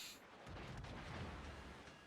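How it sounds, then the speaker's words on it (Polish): A warning salvo of naval gunfire aimed at the British tier X battleship Conqueror in World of Warships: a quiet, distant boom that swells into a long rumbling roll of artillery, with no speech. "taką salwę ostrzegawczą dostał"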